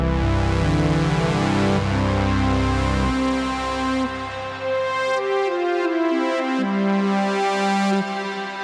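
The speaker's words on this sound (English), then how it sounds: "let's start off with an initialized preset here." A Meris Enzo X synthesizer pedal on an initialized preset plays sustained synth notes, a deep bass line shifting under rich harmonic tones, the notes gliding into a higher register partway through with no talking.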